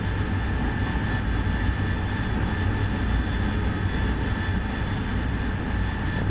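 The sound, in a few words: jet aircraft engine running in a flight simulator video game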